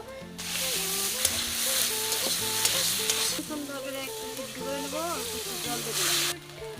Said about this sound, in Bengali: এখন আলু আর মাংসটা আমি ভালো করে কষিয়ে নিই।